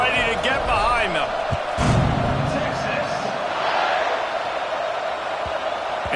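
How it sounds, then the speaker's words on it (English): A packed college football stadium crowd at an Oregon game roars steadily at kickoff, a dense continuous wall of cheering with a sharp thump near the middle, heard under a commentator's voice. "They're set to kick it off, and this crowd now ready to get behind them."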